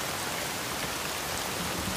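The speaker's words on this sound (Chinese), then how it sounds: "天降大雨，队伍暂且休整" Heavy rain falls in a dense, steady hiss that fills the whole span without breaks, with no voices over it.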